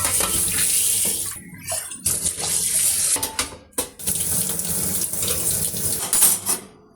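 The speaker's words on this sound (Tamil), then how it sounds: "இந்த கடாய் மட்டும் கழுவோம்." Tap water runs into a kitchen sink while a kadai pan is washed, a loud continuous hiss and splash broken by brief pauses and sloshing as the pan moves under the stream.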